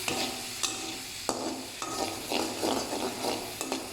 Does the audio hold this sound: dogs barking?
no